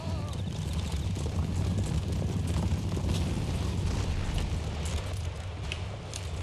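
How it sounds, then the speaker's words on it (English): Artillery fire in an Empire: Total War battle, a continuous rumbling barrage of booms with dense crackling musket and cannon noise rolling on steadily throughout. "Taking heavy artillery fire."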